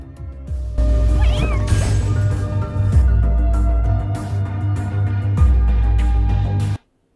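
A cat meows loudly several times, its wavering cries rising and falling close up over a steady droning backdrop that cuts off abruptly at the end.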